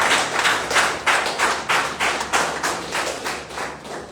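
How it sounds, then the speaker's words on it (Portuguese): A church congregation applauds together with a steady rhythmic clap that comes in regular pulses, moderately loud and filling the room, with no one talking over it. "Uma salva de palmas para Jesus"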